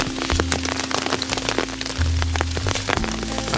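Steady rain patters on a forest floor in a mushroom-hunting wood, dense close drops and occasional sharp cracks, with a low constant drone underneath and no voices.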